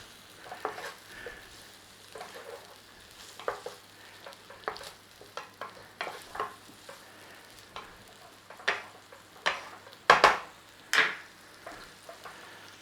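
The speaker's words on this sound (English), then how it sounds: "Nice little saute on those onions." Onions sauté quietly in a pan for a jägerschnitzel sauce, a soft low sizzle broken by intermittent stirring scrapes and clacks, some sharper near the end, with no talk.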